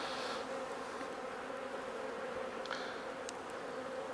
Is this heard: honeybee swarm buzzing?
yes